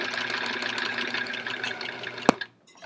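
A sewing machine fitted with a walking foot stitches across a Charming Chevrons quilt, running steadily for over two seconds before a sharp click and abrupt stop, followed by near silence.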